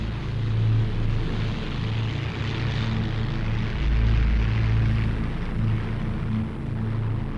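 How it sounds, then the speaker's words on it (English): German Heinkel 111 bombers of World War II fly over a British city during the Blitz, their propeller engines making a continuous, heavy, throbbing drone with low rumble and no voices. "a dozen Heinkel 111s of Kampfgruppe, Battle Group 100, reached the city and their target area"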